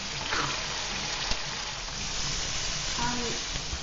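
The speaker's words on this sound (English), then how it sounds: "Everything is sizzling, coming along good." Tofu, garlic, onion and vegetables sizzling steadily in a breakfast stir-fry pan, a dense continuous frying hiss close up with faint stirring clicks throughout.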